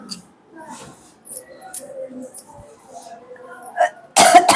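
A person coughing repeatedly in a tutoring session, with scattered faint throat sounds and muffled noises building to a loud, close burst of harsh coughing at the end.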